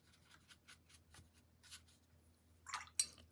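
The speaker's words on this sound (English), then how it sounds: "Rinse my brush a bit." A paintbrush being rinsed and swished in a water jar while watercolour painting, quiet faint drips and soft rubbing, then a louder brief splash and clink near the end; no talking.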